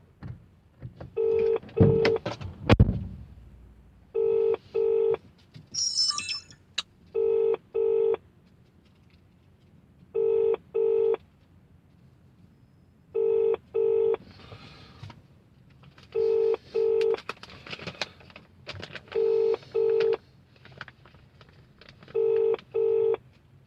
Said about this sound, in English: And they're not even fucking answering. It's just ringing.